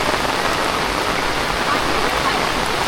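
Rain falling steadily in the Konkan countryside in the evening, an even, dense hiss of drops filling the air with no break.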